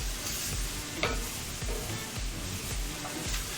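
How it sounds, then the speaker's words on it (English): Onions cooking in a pan for caramelized onion soup, giving a steady close sizzle and frying crackle with stirring scrapes throughout, no talk. "So as these cook, I'm adding more onions in the pan, obviously."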